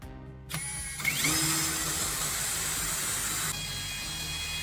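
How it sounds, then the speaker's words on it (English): A power drill whirs up to speed and keeps grinding steadily while drilling holes in a spoon handle, a high whine over a hissing, buzzing motor, fairly close. "After that, drill 2 holes along the handle."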